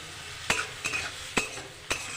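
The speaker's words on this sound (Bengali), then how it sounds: "গাজরটা ভেজে নেব, গাজর পেঁয়াজ। 1/2 চামচ লবণ দিয়ে দিয়েছি, 2 মিনিট ভেজে নেব।" Carrots and onions frying with salt in a pan: a light sizzle punctuated by four sharp spatula scrapes and knocks at a steady stirring rhythm, close and without talk.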